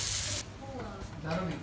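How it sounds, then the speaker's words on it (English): Sesame-crusted northern bluefin tuna sears in a hot pan, a loud hiss of sizzling at first that settles into softer crackling and spitting. "you really only want to sear them for maybe, like, let's say 20 to 30 seconds"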